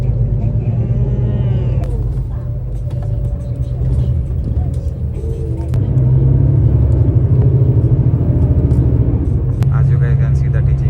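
A bus driving on a road on the way toward Taipei, with a steady loud low engine rumble and road noise throughout. The drone swells a little louder in the second half, and faint voices can be heard in the background.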